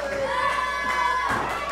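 A wrestling crowd cheering and shouting for Kaitlyn Marie at a PWF show, a sustained roar with rising voices and a thud near the end.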